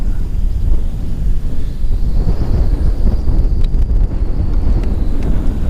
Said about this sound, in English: I say that and the wind kicks up